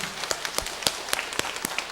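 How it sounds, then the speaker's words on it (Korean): A church congregation gives a short burst of scattered hand clapping to welcome new members, fairly faint and uneven, with no speech over it. "박수로 환영하도록 하겠습니다"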